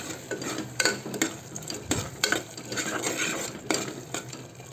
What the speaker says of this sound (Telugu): ఇది ఉడుకుతుంది కదా, కొంచెం కలమాకు